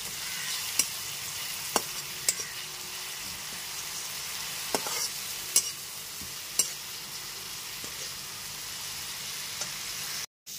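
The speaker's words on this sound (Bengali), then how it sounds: "আদা রসুন বাটাটাও খুব ভালো মতো পেঁয়াজের সাথে কষিয়ে নেব।" Ginger, garlic and green chili paste frying with onions in a pan, a continuous even sizzle with occasional sharp spatula clicks spaced a second or so apart, nearby, no voices, cutting off abruptly at the end.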